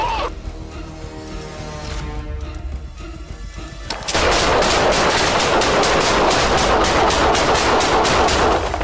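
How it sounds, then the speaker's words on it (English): Rapid bursts of gunfire erupt during a police confrontation with a suspect, at first sharp cracks over a harmonic drone, then a dense, loud, sustained volley of closely spaced shots that keeps going to the end. "shots fired!"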